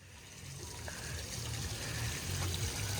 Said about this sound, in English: Look at this infinity pool.